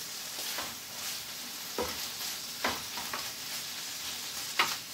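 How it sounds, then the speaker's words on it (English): Shirataki angel hair pasta sizzling in a hot pan, a steady soft frying hiss with occasional stirring scrapes, fairly quiet and with no talking. "So you got some sizzle going there."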